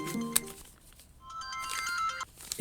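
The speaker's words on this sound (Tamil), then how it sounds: "இந்த ஃபோன் வருது, வெயிட் பண்ணு." A mobile phone ringtone plays for an incoming call, a steady electronic melody of repeated tones that rises in the second half and stops abruptly near the end.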